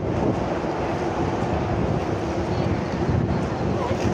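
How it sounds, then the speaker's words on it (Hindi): Strong wind roars steadily and loudly across the microphone outdoors in Mecca, a dense continuous buffeting rush with no break throughout. "तेज हवा चल रही है ना।"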